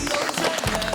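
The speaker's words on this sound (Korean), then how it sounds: "박수." A studio audience claps on a Korean TV talk show, a dense, steady patter of applause filling the whole brief moment at fairly close range.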